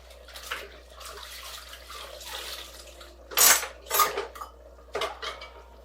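Dishes and pans are washed in a kitchen sink with running water, cutlery and cookware clattering in loud bursts over a steady rush of water.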